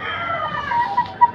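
A brown red gamecock, a champion fighting rooster, clucks and calls in a steady low chatter, with a couple of short, sharper clucks standing out near the end.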